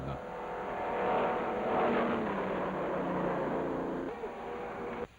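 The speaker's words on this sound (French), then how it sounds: "Le départ a été donné et au premier tour, c'est la voiture de Sterling Moss, la voiture numéro 2, qui est en tête" Racing cars at the 1958 24 Hours of Le Mans make a loud, continuous engine roar that swells and eases slightly for about five seconds, then cuts off abruptly.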